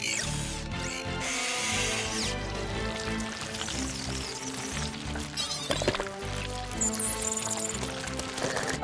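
A whirring, ratcheting drill in a PAW Patrol cartoon churns steadily under a dense, busy soundtrack, with mechanical clatter throughout.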